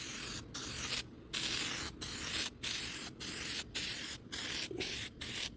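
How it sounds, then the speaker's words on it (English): Headlight coating sprayed onto a Ford F-150 headlight in bursts of hissing aerosol, about nine short sprays with brief pauses between them, close and steady, with no one talking. "we are going to spray 2 even coats of this headlight coating on this"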